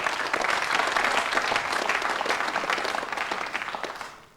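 A crowd at an indoor bowls tournament breaks into warm, sustained applause for a good shot, holding steady before fading away at the end.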